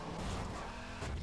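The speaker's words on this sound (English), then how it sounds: "I just plowed through that car they tried stopping me with." A car in Garry's Mod ploughs through another car set up as a roadblock, giving a loud, dense burst of engine roar and scraping, skidding crash noise that runs steadily for just over a second.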